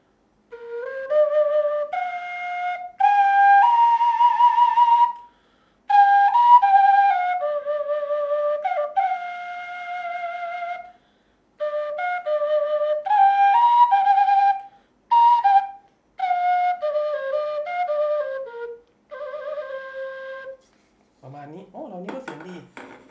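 A breathy Thai khlui bamboo flute plays a lilting melody in short phrases separated by brief pauses, with a few low notes trailing off at the end.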